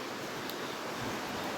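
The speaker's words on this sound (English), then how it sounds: "You got the sounds, the ambiance of the river, the little creek down there." A small creek, Whitetop Laurel Creek, flows below an Appalachian Trail path near Damascus, giving a steady, soft broadband rush of water with no talk over it.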